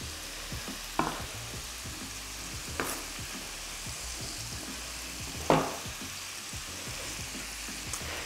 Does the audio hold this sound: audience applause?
no